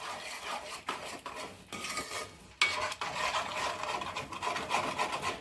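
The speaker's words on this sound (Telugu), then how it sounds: "ఇప్పుడు ఆ మ్యాష్డ్ వెజిటేబుల్స్ అన్నీ వేసుకొని బాగా కలుపుకోవాలి" Mashed vegetables for pav bhaji being stirred and mixed in a pan, a steady close scraping and rubbing of spoon against metal that runs continuously, with no one talking.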